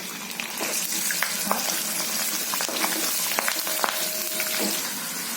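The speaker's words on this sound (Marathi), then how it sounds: "आधी मी तेल घालते कढीपत्ता घालते थोडा मसाला" Curry leaves and homemade ground masala sizzling in hot oil for stuffed bitter gourd, a loud close crackling sizzle with frequent sharp pops and spatula scrapes, with no voices.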